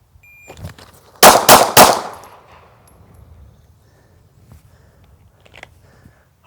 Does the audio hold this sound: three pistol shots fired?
yes